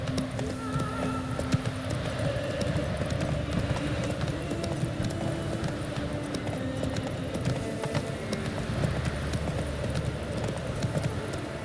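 Galloping horse hoofbeats from The Witcher 3 video game, a steady rapid clip-clop running throughout with a brief whinny and faint game ambience underneath.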